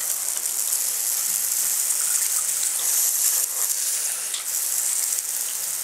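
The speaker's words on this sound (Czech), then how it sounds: "Pustí se sprchat a zde voda uniká." Water sprays and hisses steadily from a leaking bathtub tap in a hotel bathroom while the shower runs, a continuous close, bright rushing sound with no talking.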